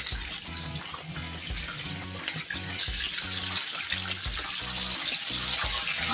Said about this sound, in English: Oh, now they're starting to pop.